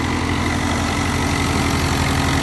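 A 2010 Fiat 640 tractor working a wheat thresher idles with a steady, loud diesel rumble, an even low throbbing drone heard up close with no break.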